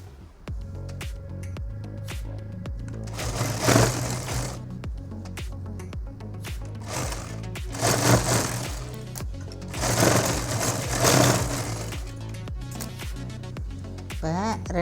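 A sewing machine stitches the back and front panels of a summer night gown together in quick rhythmic bursts of needle rattle, separated by short pauses, while someone talks over it.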